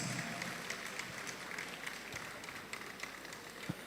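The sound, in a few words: audience applause welcoming senator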